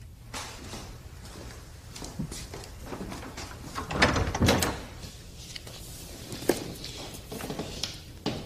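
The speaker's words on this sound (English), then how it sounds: "Windridge, close the door." A door is pushed shut in an office among soft shuffling and footsteps, with a fuller thud midway through; all of it is faint and distant, with no speech.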